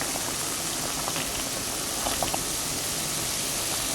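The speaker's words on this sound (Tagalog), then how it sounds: "Then meron tayo ditong boiling water." Water at a steady boil in a pot for cooking spaghetti, a constant bubbling hiss with a few faint pops and no talking.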